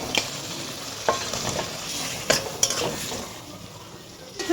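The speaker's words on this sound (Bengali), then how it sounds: "মশলাটা আমি কষিয়ে নিচ্ছি। আমি এবার আলুটা দিয়ে দিচ্ছি।" Potatoes frying with spice masala in a pan for a Bengali alur dom, a continuous sizzle with intermittent clinks and scrapes of a spoon stirring against the pan, close and clear.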